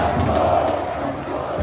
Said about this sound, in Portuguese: Léo Jardim saindo aqui toda a torcida cantando